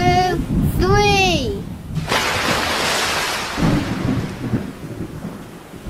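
A thunderstorm in an animated retelling of Jonah's story, with a loud crack and rumbling thunder over a steady hiss of rain, after a voice rises in a shout.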